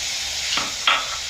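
Chicken liver and gizzard adobo sizzling steadily in a pan after soy sauce is poured in, with two brief bursts of sharper hiss and a faint scrape of stirring, close and moderately loud.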